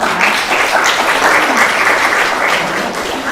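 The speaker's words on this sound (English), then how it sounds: "Let's give them another round of applause." An audience at a counseling alumni panel evening gives the panelists another round of applause. The clapping is close and lively, with individual claps standing out, and keeps a steady level throughout.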